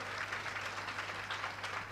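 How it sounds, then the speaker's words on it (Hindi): Sparse, soft applause comes from the audience at a Ram Katha religious discourse, a faint, continuous wash of scattered clapping over a low hum. "तालियां कमजोर हैं, इसका मतलब सहमत नहीं है।"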